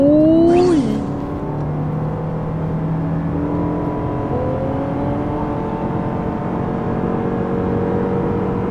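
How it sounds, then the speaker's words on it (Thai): A Lexus LM seven-seat luxury van accelerates hard from 0 to 100 km/h in sport mode, its engine note rising steadily and holding a loud, continuous drone with a brief whir at the start and no talk. "มันเร่งได้จี๊ดจ๊าดขนาดไหน"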